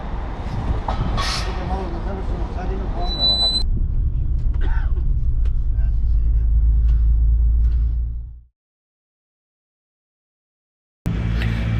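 Bus driving toward Belgrade, Serbia, a steady low rumble of the engine and road heard from inside, with faint background voices, cutting to silence near the end before the rumble briefly returns.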